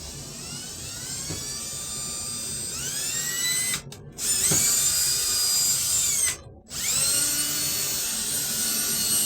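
A power drill driving a Phillips screw into a wooden antler mount, whining loudly and steadily with rising pitch, briefly stopping twice before starting again, alone with no voices.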